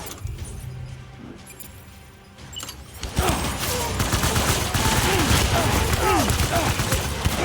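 Gunfire in the video game Death Stranding starts as dense, rapid bursts about halfway through and keeps rattling loudly to the end, mixed with shouted voices.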